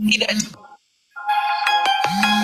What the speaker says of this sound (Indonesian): Oh, ada telepon, Dis.